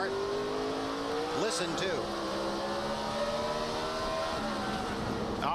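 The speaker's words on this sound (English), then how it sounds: "He jumped on the brakes so hard you can hear that boom, boom, boom, boom. That was the rear wheels getting the wheel hop." A NASCAR Nextel Cup stock car at Martinsville hops its rear wheels under very hard braking, giving a short run of booming thumps over a steady engine drone and the roar of other cars, with commentators talking.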